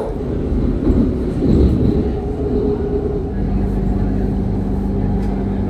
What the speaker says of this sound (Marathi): ही मेट्रो बघा कशी फिरून जाते